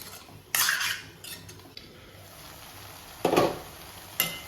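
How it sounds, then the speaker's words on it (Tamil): Chayote and potato pieces sautéing in a pan, a quiet sizzle broken by a few distinct metallic scrapes and clatters of a utensil stirring, spaced irregularly. "இதை அப்படியே நல்லா வதக்கி கொடுக்க வேண்டியதான்"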